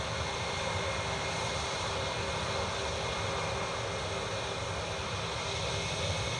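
A British Airways airliner runs at Newcastle International Airport with a constant broadband engine roar and a faint steady whine on top, unbroken and fairly loud across the whole stretch.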